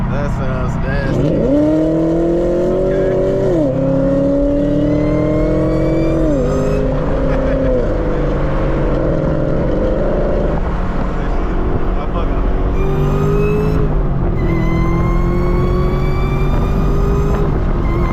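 Manual Camaro ZL1 engine revving and accelerating on a sunset drive, a loud raspy roar climbing through gears with shifts and steady cabin drone throughout, no talk.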